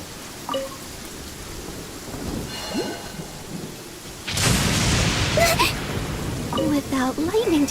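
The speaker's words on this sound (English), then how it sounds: "The sound of thunder is quite startling." Genshin Impact thunderstorm: light rain patters at first, then a heavy thunderclap breaks and a rolling downpour continues loudly, with a voice speaking over the storm.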